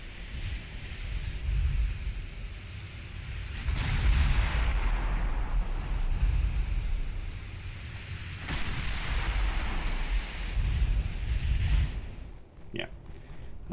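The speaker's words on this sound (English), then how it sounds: "that one blowing up to a torpedo hit" Naval gunfire and explosions from warships trading fire in Ultimate Admiral Dreadnoughts, with a torpedo hit blowing up a ship: heavy rolling booms and rumbling blasts repeat through the scene, loud and continuous, tailing off near the end.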